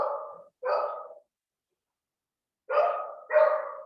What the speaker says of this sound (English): Is that Krishna's dog?